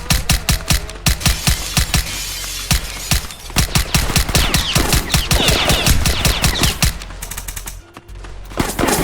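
Rapid bursts of suppressed ARP rifle fire in a South Bronx trenches shooter video game, loud, close strings of shots with short pauses in between, continuing steadily throughout with no talking.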